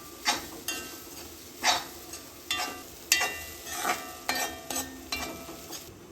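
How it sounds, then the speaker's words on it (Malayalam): Wheat upma stirred in a pan over a low flame: repeated scraping strokes of a spoon against the pan in an uneven rhythm, close and moderately loud, with faint sizzling between them and no talking. "ഈ ലോ ഫ്ലെയിമിൽ ഇട്ടിട്ട് ഒരു പതിനഞ്ച് മിനിറ്റ് ഇളക്കി കൊടുക്കുക"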